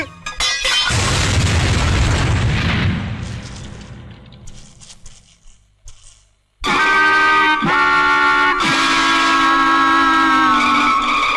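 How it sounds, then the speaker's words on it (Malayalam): A bomb blast in a Malayalam comedy film scene: a loud, broad roaring burst that rumbles and fades over several seconds, followed by silence, then a sudden loud burst of music. "അയ്യോ, ബോംബ്."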